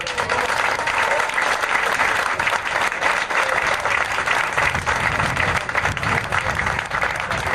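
Sustained applause from a crowd at a French football officials' ceremony, marking the presentation of a silver-gilt medal; dense, steady clapping that stays loud and even throughout, with no pauses.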